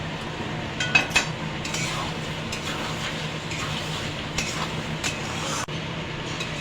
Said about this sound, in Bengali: এটা মিশিয়ে দেবো এবার নাড়িয়ে